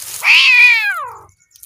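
A cat caught in a rat trap lets out a single long, loud drawn-out meow close by, rising and then falling away, with no speech.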